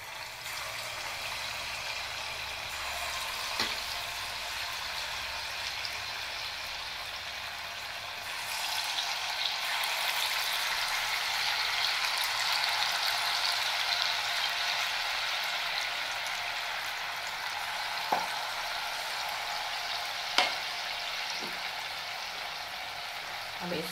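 Sweet pumpkin pakoras frying in hot oil, a steady bubbling sizzle that swells midway, with a few sharp clicks and knocks, close and moderately loud with no talking.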